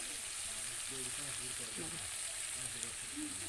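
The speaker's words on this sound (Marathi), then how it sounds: "बघा किती मस्त मसाला भाजला आहे" Spiced masala for stuffed aubergine roasts in a pan with a dense, even hiss of frying that runs throughout. A voice talks quietly under the sizzle.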